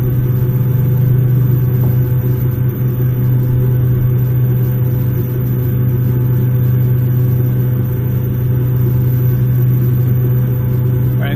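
Steady loud drone of a Cessna F406 twin-turboprop on its takeoff roll and climb-out in the FSX flight simulator, a constant low hum with a steady tonal whine holding level throughout.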